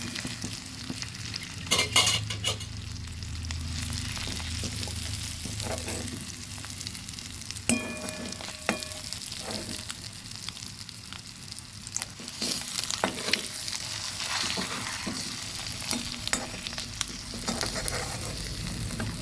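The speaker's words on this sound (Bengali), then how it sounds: "ডিম একটু বেশি হয়ে গেছে, সেই জন্য নাড়তে কষ্ট হচ্ছে" Eggs frying with snake gourd in a pan are stirred and scraped with a spatula, steady sizzling underneath and clustered clattering strokes, without any talking.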